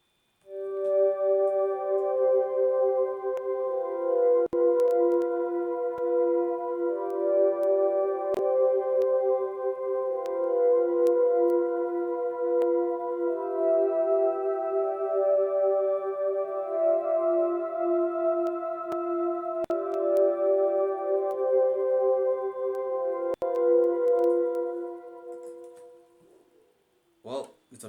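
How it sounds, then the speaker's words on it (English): Atmospheric synth pad from a dreamy lofi beat, soft sustained layered chords holding steadily for nearly half a minute, alone and fairly loud, fading out at the end. "that's when I added the atmospheric pad"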